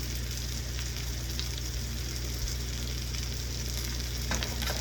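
A homemade tortilla cooks in a skillet, producing a steady, even sizzle with a low hum underneath and a faint tap or two, without any talking.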